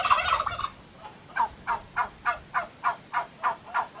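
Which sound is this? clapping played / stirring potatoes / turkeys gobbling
turkeys gobbling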